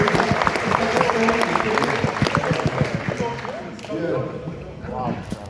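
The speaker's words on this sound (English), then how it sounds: "Give a round of applause, ladies." Crowd applause with some cheering, loud and dense at first, then thinning as voices talk over it.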